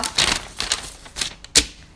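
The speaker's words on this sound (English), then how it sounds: "They've taped everything down, so I'm gonna have to make a lot of noise and open this up." A taped-down slime kit package is pried open, giving sharp, irregular tearing and clattering bursts up close, loud, with a final snap near the end and no talking.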